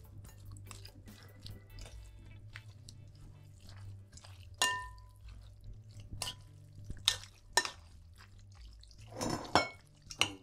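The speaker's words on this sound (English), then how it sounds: "And now I'm gonna add my sauce." Sauce poured into a pan for shrimp Florentine, with soft wet drips and pours plus sharp clinks of utensils against cookware, quiet and intermittent near the microphone.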